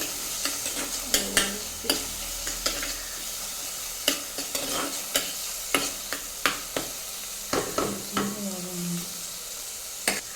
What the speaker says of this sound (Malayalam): വഴറ്റി ഏകദേശം ഒന്ന് വേവണം അല്ലേ?